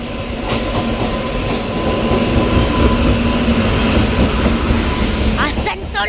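A passing train, a locomotive from the Asansol loco shed seen from aboard the Kerala Express, roars loud and steady with rumbling wheels and a few high squeals and clicks near the end.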